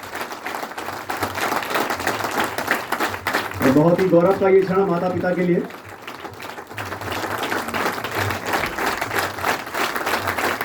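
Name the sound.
applause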